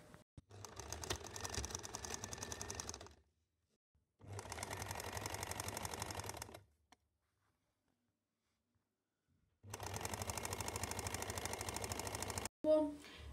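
A domestic sewing machine stitches the side seams of a two-kali patiala salwar in three separate bursts of rapid, even running, each lasting a few seconds with quiet pauses between and a brief click at the end.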